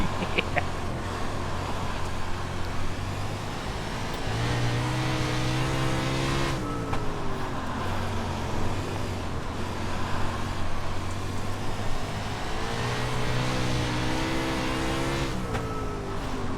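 410 winged sprint car engine in iRacing on a half-mile dirt track, a loud steady high-revving roar that rises and falls with each lap, engine pitch dropping and climbing through the corners and down the long straights.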